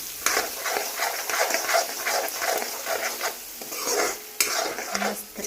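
A spoon stirs a tomato mixture with turmeric, chili, coriander-cumin and salt in a pan. It scrapes and taps rhythmically over a soft sizzle, with brief utensil clinks.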